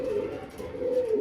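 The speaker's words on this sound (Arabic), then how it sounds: "لاحظوا أن الذكر دائما يغرد دائما بعكس الأنثى ممكن أن تغرد في بعض الحالات" A male pigeon coos in a low, steady, throaty call, two drawn-out phrases with a short dip between them, close and clear against faint background noise.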